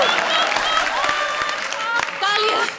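A studio audience at a comedy show claps in a steady patter of applause, with tonal voices and chatter running over it throughout.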